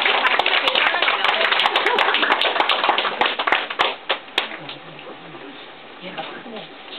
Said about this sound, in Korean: 자기 자신을 위해서 박수